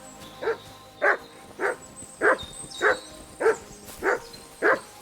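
The dog Mats barks in the video game Kingdom Come: Deliverance II, eight evenly spaced, moderately close woofs over quiet outdoor ambience.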